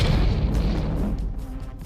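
A loud, deep boom hits at once and rolls off into a low, fading rumble.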